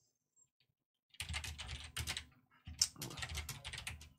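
Close keystrokes on a computer keyboard typing a folder title in Google Drive, two short bursts of quick clicky taps separated by a brief pause after a second of near silence.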